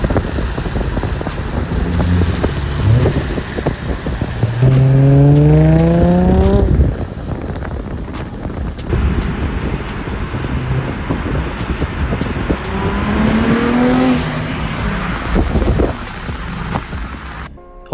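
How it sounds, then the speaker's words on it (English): An Infiniti G35 engine fitted with an aftermarket intake pipe revs up twice, its rising harmonic drone climbing in pitch each time, with steady wind rush over the microphone throughout. "it makes your car sound quite a bit better. So I'm going to chuck a few clips."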